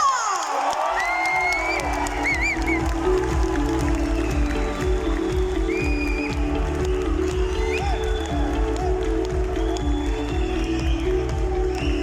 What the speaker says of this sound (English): Clap it, keep on clap.